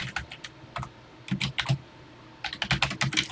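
Keys clatter on a TI-99/4A home computer keyboard as a program listing is typed in from a book, in short bursts of crisp clicks separated by brief pauses, close and alone.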